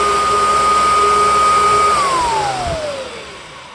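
A Kirby Dual Sanitronic 80 vacuum cleaner runs loud and steady with a high motor whine that drops in pitch toward the end as the airflow changes, close and alone.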